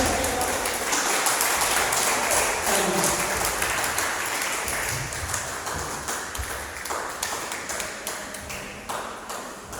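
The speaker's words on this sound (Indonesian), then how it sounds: "jangan berhenti tepuk tangannya. Tepuk tangan terus, ya. Tepuk tangan yang paling dahsyat" A church congregation applauds loudly and steadily at a worship service, the dense clapping holding for the whole stretch and thinning slightly toward the end.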